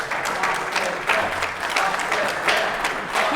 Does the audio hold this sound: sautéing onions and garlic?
no